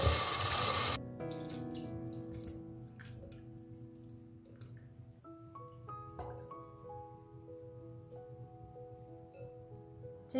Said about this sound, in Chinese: 我们将它泡水洗一下。